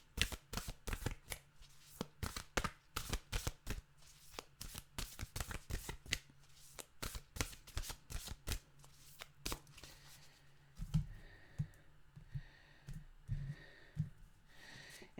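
A deck of Nature's Whispers oracle cards is shuffled up close, giving rapid riffling flutters and slaps in quick bursts, then softer, sparser card handling toward the end.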